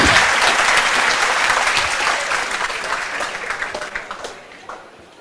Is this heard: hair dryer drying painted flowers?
no